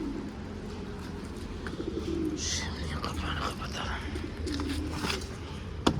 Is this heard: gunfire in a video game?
no